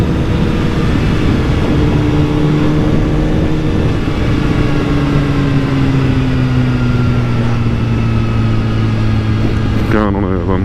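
A BMW HP4 motorcycle on a road commute makes a steady, loud engine drone under rushing wind. The pitch slowly sags over several seconds before a sudden change at the very end, and no one talks.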